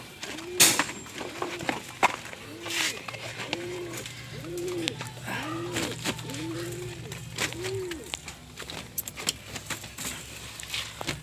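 Breeder and flyer pigeons cooing in a loft, a steady run of soft rhythmic coos repeating every second or so at close range, mixed with scattered clinks and knocks and a voice speaking over them.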